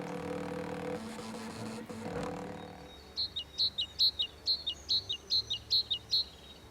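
Great tits call near wooden bird houses, giving a run of about nine clear, evenly spaced high chirps after a few seconds of low background rumble.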